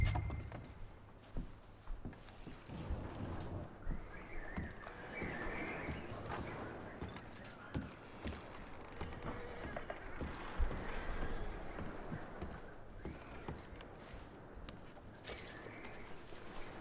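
Horses in the video game Battlefront Murk clip-clop and shuffle at moderate distance, with irregular hoof steps, faint snorts and light ambient bird sounds running throughout.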